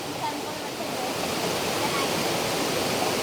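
Water rushing and splashing at a waterfall swimming spot, a loud steady broadband roar that fills the scene, with people's voices faintly mixed in.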